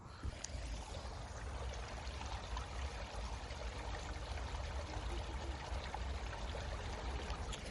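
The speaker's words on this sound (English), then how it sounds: "that was the sound of the lovely wee stream on my left hand side" A small stream flows beside a countryside path, giving a steady, continuous broadband rush and trickle of water that holds an even level throughout with no voices.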